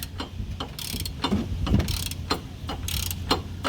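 A ratchet tightens the wheel bearing hub bolts on a 2003 Chevy Trailblazer, with rapid, close metallic clicking of the pawl in repeated short bursts and clunks from the wrench and tool.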